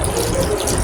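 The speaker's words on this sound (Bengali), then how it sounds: "এখন আমি পানি অ্যাড করব।" Water poured into a pot of chicken biryani made with free-range desi chicken, a steady broad gushing rush that runs unbroken through the short moment, close and fairly loud.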